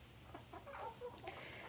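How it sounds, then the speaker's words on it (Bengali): Domestic chickens kept as backyard poultry clucking softly at a distance, a few short, faint calls scattered over a quiet background. "আর এই দেখেন আমার মুরগিগুলা"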